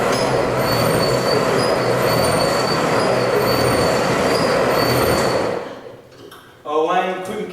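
A tram rolls past on its rails with a loud, sustained rumble and high metallic wheel squeal that holds steady for several seconds, then fades abruptly before a brief burst of clattering returns at the end.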